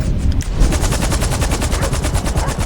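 Rapid automatic gunfire from the game GTA V rattles off in a fast, even burst of loud shots lasting nearly three seconds, with no talking over it.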